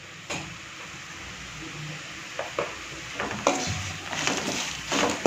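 Tapioca (cassava) pieces are sautéed with salt in a pan for a spicy fry, giving a soft, steady sizzle broken by several close scraping and clattering stirring strokes.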